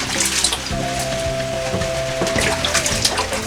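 Water poured into a cooking pot for a simple salt-and-water village dish in Africa, a steady splashing pour close by, heard alone with no talking.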